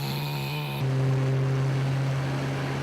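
A city leaf collection truck's engine drones steadily at a distance, a low constant hum with a shift in pitch partway through and no talking.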